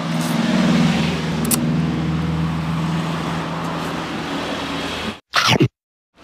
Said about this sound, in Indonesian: kalau rada berisik karena kita persis di pinggir jalan